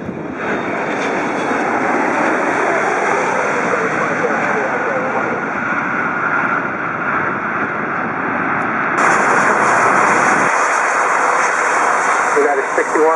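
Jet engines roar loudly and steadily as an airliner takes off at Los Angeles International Airport (LAX), a sustained broadband thrust noise with a brighter rise partway through and radio or voice chatter mixed in.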